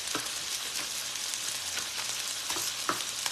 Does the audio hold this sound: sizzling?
yes